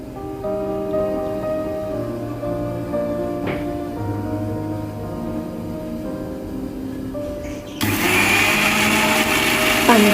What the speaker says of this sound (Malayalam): ഞാനിവിടെ അരയ്ക്കാൻ വേണ്ടിയിട്ട് മിക്സിയുടെ വലിയ ജാറ് തന്നെയാട്ടോ എടുത്തിരിക്കുന്നത്